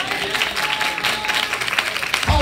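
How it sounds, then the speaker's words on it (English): A church congregation clapping during a Sunday morning sermon, a short burst of scattered applause from the pews, fairly close and lasting a couple of seconds. "I wish I had at least two people clap on that."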